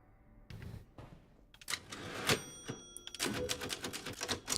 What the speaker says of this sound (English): Cool typewriter.